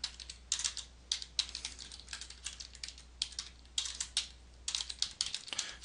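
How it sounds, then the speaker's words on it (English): Typing on a computer keyboard, quick irregular clusters of light key clicks, close and fairly quiet, continuing steadily with a low hum underneath. "type in your hashtag somewhere within your message"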